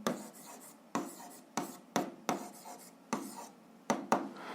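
Pen strokes on paper while writing out an algebra equation, close and dry, in bursts of scratchy scribbling with brief pauses between strokes, alone without talk.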